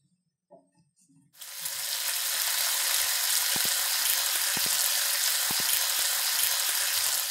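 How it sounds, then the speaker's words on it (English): A steady, loud sizzle of bacon frying in a pan starts abruptly and continues without a break, with a few faint clicks and a low hum underneath. "It will start sizzling on its own."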